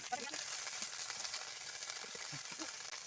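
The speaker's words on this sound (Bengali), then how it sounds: "আমি আদাগুলোকে একটু নাড়াচাড়া করে দেখো ভালো করে ভেজে নিচ্ছি" Ginger frying in a pan as it is stirred, a faint even sizzle with soft scraping and occasional light pops throughout.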